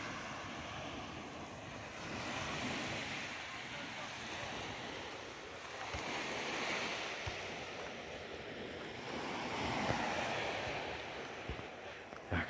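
Waves wash onto the beach at Uchkuevka in Sevastopol, Crimea, a broad rolling surf noise swelling and fading in slow surges, mixed with wind rumble.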